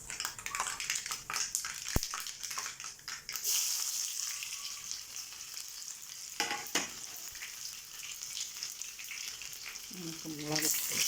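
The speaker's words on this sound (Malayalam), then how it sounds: "കടുക് പൊട്ടുമ്പോൾ നമുക്ക് ചെറിയ ഉള്ളി ചേർത്ത് കൊടുക്കാം." Small onions hit hot oil with popped mustard seeds, producing a loud crackling sizzle in the pan, punctuated by stirring scrapes and a sharp clack, with a faint voice at times.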